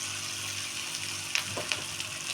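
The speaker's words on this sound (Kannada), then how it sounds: "ಎಣ್ಣೆ ಕಾಯ್ದಿದೆ ಇವಾಗ ನಾನು ಹಾಕ್ತಾಯಿದ್ದೀನಿ" Hot oil hisses steadily, with a couple of brief splashes and crackles as sev dough of semolina and rice flour is dropped into the pan.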